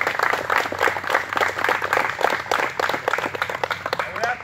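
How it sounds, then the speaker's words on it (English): Outdoor crowd at a farm claps for Civil War reenactors of the 15th Alabama, a short burst of lively applause with a few voices mixed in. "so why don't you give them a round of applause"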